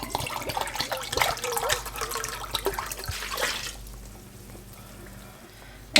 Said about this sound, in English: To our sugar, we're going to add 2 cups of apple cider vinegar.